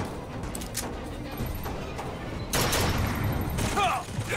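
Gunfire rings out in the video game BioShock Infinite, with a rapid burst of loud blasts that swells in the middle amid game noise and effects.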